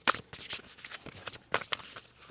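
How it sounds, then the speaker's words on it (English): A deck of playing cards being shuffled up close, with repeated crisp riffling bursts and flutters of card edges in an uneven rhythm, loud and dry with no talking. "I'm going to shuffle and take one card"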